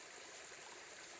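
Steady stream water flowing beside the Appalachian Trail in early spring, a constant close rushing and babbling with no pauses and no voices.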